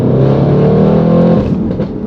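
A Stage 2 tuned C8 Audi RS6 engine pulls hard in third gear around 3,000 RPM, a loud, steady, deep drone of acceleration heard close with no talk, easing slightly near the end.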